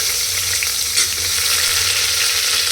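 Chopped large onion hits hot oil in a pan for a chicken gravy, giving a loud, steady, continuous sizzle with a brief flare near the start of frying and soft stirring underneath.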